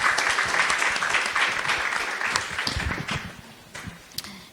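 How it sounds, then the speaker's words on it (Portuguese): Audience applause welcoming a guest to a mental health festival talk, loud dense clapping at first that gradually thins into scattered claps and fades toward the end. "Palmas."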